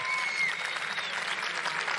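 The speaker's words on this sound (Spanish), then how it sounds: "Ahora escuchamos al equipo japonés ahí aplaudiendo en las gradas de este escenario." The Japanese team applauds from the stands at a karate kata match against Spain, continuous moderate clapping from a group heard at a distance.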